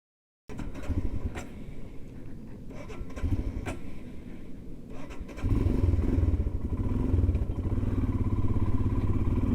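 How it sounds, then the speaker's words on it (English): A motorcycle with a turbo-compatible fuel system idles roughly and unevenly, a close, low pulsing engine note with irregular clicks, growing louder and fuller partway through. "See, this is the issue which I was facing, and rather I am facing, that bike smooth idol नहीं होती है."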